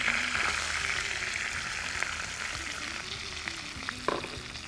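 Fennel seeds, curry leaves and onion sauté in hot oil in a pan, giving a continuous, close, steady sizzle and frying hiss with faint stirring scrapes throughout.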